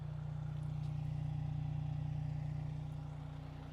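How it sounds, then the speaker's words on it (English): A Mercedes-Benz SL 43 AMG idling, its exhaust giving a steady low rumble that holds even and then eases slightly toward the end, with no one talking. "Just let you enjoy the sound of the exhaust."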